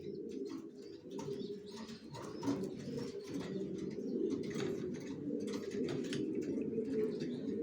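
Racer pigeons cooing steadily and close, a dense layer of soft low coos with occasional chirps above, continuing without a break throughout.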